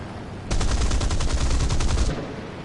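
A Spitfire fighter plane in a video game fires its guns in a sustained rapid burst lasting about a second and a half, loud and close over the engine's drone, then cuts off abruptly.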